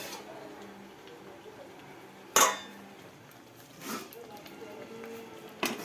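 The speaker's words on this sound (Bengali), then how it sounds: "এবার একটু ঢাকা দিয়ে দেব মাংসটা সিদ্ধ হোক" A lid goes onto a pot of simmering meat in a home kitchen, one sharp metallic clank standing out from quiet room noise, followed by a softer knock and another brief clink near the end.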